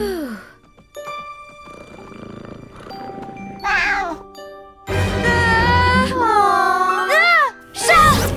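A cartoon cat gives several loud, drawn-out meows with rising and falling pitch, mixed with jingling tones and chimes from the animated soundtrack, near and prominent.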